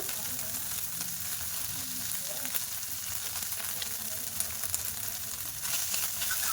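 Chicken fries in a pan with Amul fresh cream and is stirred, making a dense, continuous close sizzle with faint scraping of the spoon and a low rumble beneath, steady throughout with no speech.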